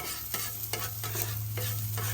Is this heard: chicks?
no